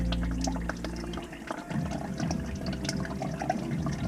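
Oil draining from a fan engine into a bucket during an oil change on the B10 project, a steady trickling, splashing pour close by that runs continuously with no talk over it.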